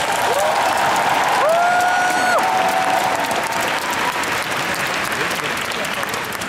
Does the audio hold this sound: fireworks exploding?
no